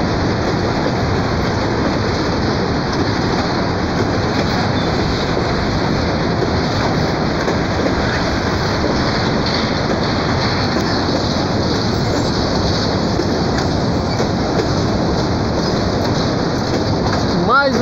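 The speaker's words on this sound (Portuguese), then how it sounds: "Trem passando aqui na frente" A train passes close by on a rail line running along a street in Joinville, Brazil, a steady loud rumble and rattle of wagons that holds for the whole stretch.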